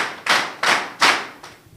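A few sharp, close claps in quick succession, roughly four evenly spaced bursts, the last fainter, heard alone during a customs cadet training event.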